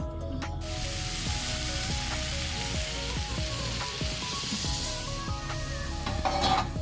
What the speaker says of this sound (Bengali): এখানে যে আলুগুলো আর এই ফুলকপিগুলো দিয়ে আবার ভালোভাবে নাড়াচাড়া করে নেব।